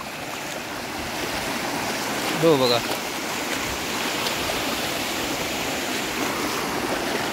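Strong floodwater from an overflowing lake rushes across a blocked road at above knee depth, making a loud, steady broadband roar throughout. A voice briefly speaks over it near the middle.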